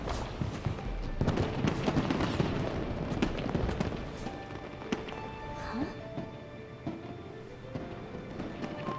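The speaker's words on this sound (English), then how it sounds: "A fireworks show?" Fireworks show in the video game Genshin Impact: a dense run of sharp pops and crackles, strongest early and thinning toward the end, layered over busy game sound effects.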